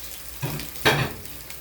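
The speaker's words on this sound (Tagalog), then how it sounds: "igisa muna natin yung sibuyas. Wait lang mag-aroma. Tapos yung bawang." Onion and garlic sauté in a hot pan, a steady sizzle rising in two bursts as ingredients are stirred or added, close and without any talking.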